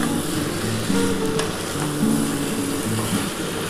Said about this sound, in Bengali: খুব ভালো করে মশলাটা কষাতে হবে বন্ধুরা